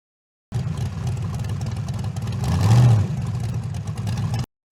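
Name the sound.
off-road vehicle engine revving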